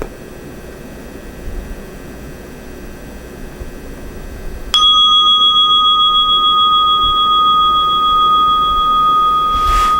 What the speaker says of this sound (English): Soon you will hear the sound of the bell.